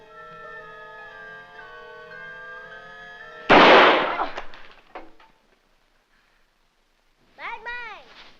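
Two rapid gunshot-like bangs from a radio drama burst out loudly after a stretch of sustained music, followed by a quieter tail and, near the end, a short wavering cry, with speech-like sound present.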